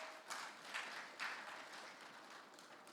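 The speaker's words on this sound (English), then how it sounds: "A round of applause, and until he gets to his seat, we can release you." An audience at a human rights conference gives a faint, distant round of applause, a soft continuous patter of many hands with no voices over it.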